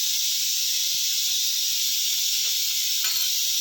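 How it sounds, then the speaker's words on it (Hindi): Cold milk pours into a jug in one unbroken, loud, rushing hiss that fills the whole moment, with no voices. "इसके लिए डालेंगे दूध।"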